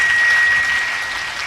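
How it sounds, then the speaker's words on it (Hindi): Applause from a gathered crowd at a Hindu religious saints' assembly in Sheohar district, a dense, steady wash of clapping throughout, fairly loud and slowly easing off toward the end. "शिवहर जिला संत समाज के लिए एक बार हम तालियों की गड़गड़ाहट कर रहे हैं"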